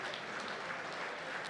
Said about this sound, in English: But very well deserved applause